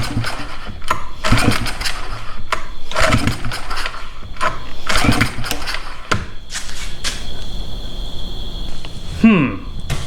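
A Mercury outboard motor with a suspected gummed-up fuel pump is cranked repeatedly, giving loud whirring bursts of a second or so separated by pauses, with clattering near the end and no catch into running.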